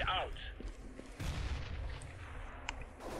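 Gunfire in Counter-Strike: Global Offensive on the de_cache map, a few sharp shots and bursts over a short stretch, moderately loud with some faint voices mixed in.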